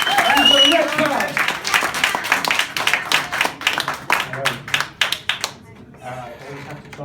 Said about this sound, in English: please give him a very warm round of applause